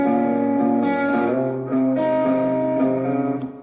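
An electric guitar plays a short melodic section of a song, sustained single notes with a slide, moderately loud and close, lightly driven and alone, with no talking.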